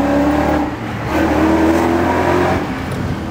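A BMW 7 Series with a new exhaust revs loudly and close by, the engine roar dipping briefly and then swelling again in a continuous, aggressive drone.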